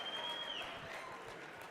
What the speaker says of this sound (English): Applause for the room.